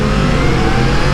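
A Yamaha MT-10 motorcycle engine roars loudly up close in a brief, sustained rev.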